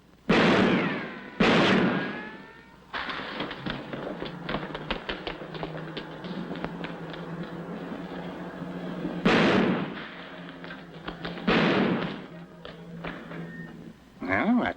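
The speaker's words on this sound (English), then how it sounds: "Hey, stop or I'll shoot!" Gunshots fired during a chase in the classic comedy film My Favorite Brunette: sharp loud bangs near the start and again later, with a busy stretch of action noise and a few spoken lines between.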